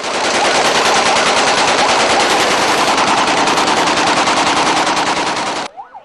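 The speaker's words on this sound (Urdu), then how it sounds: "شدید ہوائی فائرنگ سے پورا شہر گونج اٹھا" Celebratory aerial gunfire from Kalashnikov rifles in a city, a dense, loud, continuous roar of rapid automatic bursts lasting several seconds before cutting off abruptly.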